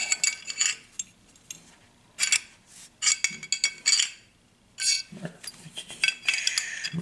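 Metal clinks and small clatters come from parts of an M1911 pistol as the barrel is picked up and handled during a muzzle brake installation, in short close bursts separated by quiet pauses.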